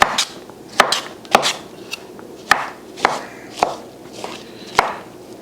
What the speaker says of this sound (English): I'm just finally chopping the mushrooms